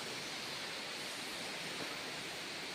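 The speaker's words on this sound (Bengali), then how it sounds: "এটা কিন্তু পাহাড় ফুটো হয়ে গুহাটার জলটা আসছে অ্যাকচুয়ালি ওপর থেকে।" Continuous hiss and rush of water pouring into a cave through a hole in the hill above, steady and fairly faint, with no voices.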